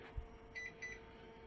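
A drive emulator connected to a TRS-80 Model 16 computer gives two short, clear electronic beeps in even succession over a steady low hum, near and moderately loud.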